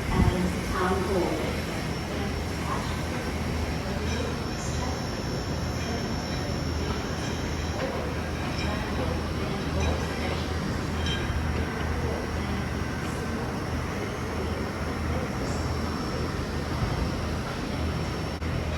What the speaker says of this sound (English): I believe the train is about to depart